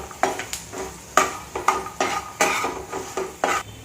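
Dry coconut pieces are stirred as they sauté in a pan on low to medium heat for thick poha chivda. A utensil scrapes and clacks against the pan in repeated strokes over a soft, faint sizzle.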